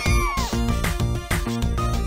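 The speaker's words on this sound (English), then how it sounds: "All the cats are screaming." Cats in a video game meowing and caterwauling, a rapid run of loud, close, overlapping yowls and wails with no pauses and no talk.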